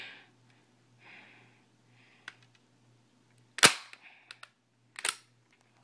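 A Nerf gun firing darts: a couple of sharp, loud pops a second or so apart, with faint clicks and soft breathing between them in a quiet room.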